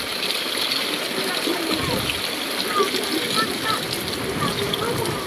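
Continuous rushing and splashing of typhoon floodwater in Santa Misa during Typhoon Carina and monsoon rains, churned up close by someone wading through it, with voices talking over the water noise.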